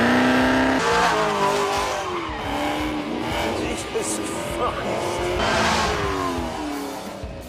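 A Hennessy-tuned Chevrolet Camaro with a 1,000 horsepower engine revs and accelerates hard, its loud engine note rising and falling with tyre squeal, while someone speaks over it briefly.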